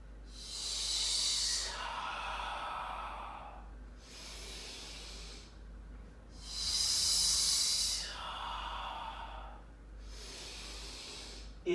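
A yoga instructor breathes audibly in a slow rhythm, with long hissing inhales and exhales close to the microphone, repeating about four times in even cycles.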